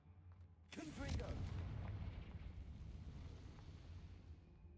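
In the Hogwarts Legacy video game, a Confringo fire spell goes off as a sudden heavy boom, then a long rumbling, crackling tail that stays fairly loud for several seconds.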